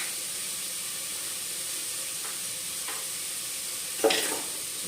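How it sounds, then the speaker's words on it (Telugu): Ingredients frying in a pan for palak khichdi, a steady soft sizzle throughout with a few faint stirring scrapes and one louder clatter near the end. "అన్నీ కూడా వేసి అయితే ఫ్రై చేసుకుంటున్నాను"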